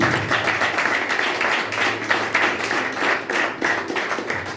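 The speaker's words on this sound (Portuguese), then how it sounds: "Você pode aplaudir o Senhor por isso," A congregation applauds during a Portuguese-language church service, a close, loud patter of many hands clapping in uneven bursts that keeps going throughout.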